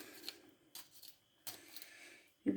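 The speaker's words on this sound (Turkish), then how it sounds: "biberlerimi doğruyorum." Peppers are chopped for Kayseri-style yağ mantısı, heard as a few quiet, crisp cutting bursts separated by short pauses, faint and close.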